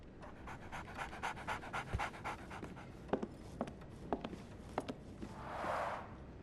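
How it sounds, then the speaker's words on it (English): A dog in the Sherlock Holmes The Awakened video game pants steadily in quick, breathy puffs, close and moderately soft, with a few light taps and a brief airy swell near the end. "So, Barnes has a dog now."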